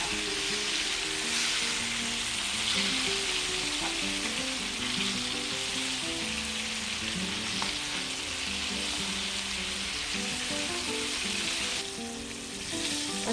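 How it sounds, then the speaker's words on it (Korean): Steady, dense sizzling and crackling of chicken deep frying a second time in hot oil, loud and continuous throughout with no voices. "이번에 두 번째 튀기는 거라서"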